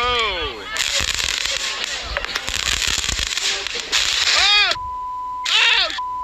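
Bootleg fireworks exploding nearby at a wedding: loud crackling bursts and rising whistles that repeat over several seconds, with people shouting and exclaiming throughout.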